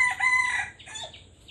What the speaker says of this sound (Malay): Mana ayam aku?